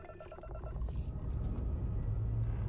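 Hyena spaceship in the video game Starfield lifting off with damaged engines: a few electronic beeps give way to a swelling, steady low engine rumble that grows louder and stays heavy, with no talking.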